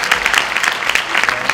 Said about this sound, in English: So can we have a huge round of applause for both of you?